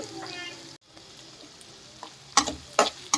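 Curry leaves, green chillies, onion and beans frying in a pan: a soft sizzle with a brief cut partway through, then several loud spattering bursts near the end, with no talk.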